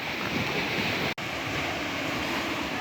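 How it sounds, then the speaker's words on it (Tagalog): Big waves surge on the open sea beside a small fishing boat out for squid, a continuous loud roar of surf and wind buffeting the microphone, with one brief dropout midway. "Medyo malaki yung alon mga idol kay."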